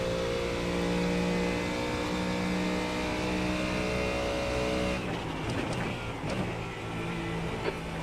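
A Mustang GT3 race car in the iRacing sim holds a loud, steady engine drone, then shifts down with a burst of changing, blipping engine pitch near the end.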